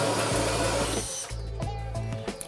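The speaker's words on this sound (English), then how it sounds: "drill your hole" A power drill whirs briefly in a short burst drilling a hole in a cabinet, then winds down, leaving faint clicks and handling noises.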